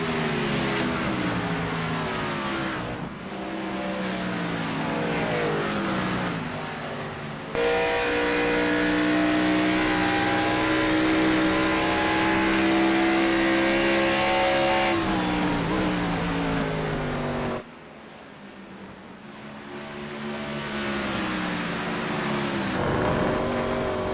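Race car engines in an Xfinity Series sim race at Watkins Glen, a loud continuous drone of several cars whose pitch climbs and drops through gear changes, with sharp cuts between onboard engine views.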